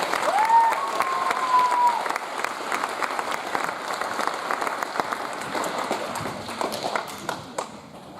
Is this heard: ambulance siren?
no